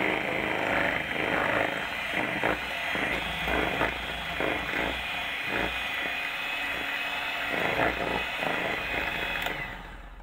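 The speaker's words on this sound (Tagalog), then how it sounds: "Mix lang natin siya hanggang sa mahalo lahat ng ingredients." Electric hand mixer blends vanilla cupcake batter, a steady motorized whir with faint rattling held loud and close for about ten seconds, easing off at the very end; no talking.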